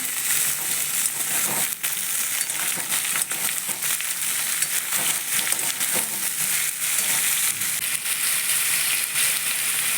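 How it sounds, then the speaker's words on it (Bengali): Loud, continuous sizzling of pumpkin pieces frying in hot oil in a pan, with occasional scraping and stirring clatters; no voices. "এবার আমি কেটে রাখা কুমড়োগুলো দিয়ে দিচ্ছি"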